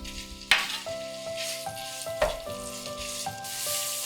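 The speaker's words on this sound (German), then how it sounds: "3 Sterne Anis mit Schweinebauch zusammenbraten." Diced pork belly and star anise frying in oil in a hot pan, a steady close sizzle with stirring scrapes and two sharp spatula knocks, over faint background music.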